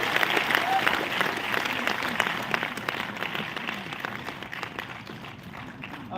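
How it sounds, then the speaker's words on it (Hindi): Steady, dense applause from an audience at an agricultural training seminar fills the room, a continuous patter of many hands, moderately loud and sustained throughout. "एक बार ताली हो जाए"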